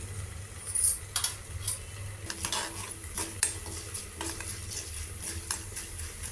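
Cumin, mustard seeds and urad dal temper in hot oil for a gongura flower dal, a low sizzle under repeated clinks and scrapes of a spoon against the pan, fairly quiet and close, with no talking.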